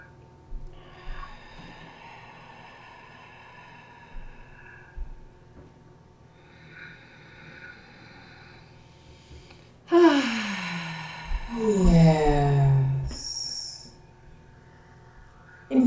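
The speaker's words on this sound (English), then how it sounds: "In through the nose. Out through the mouth as we blow out the candle in a long, slow, deep out breath." One person takes a slow, deep breath in through the nose and then lets a long breath out through the mouth, close and clear after a quiet stretch.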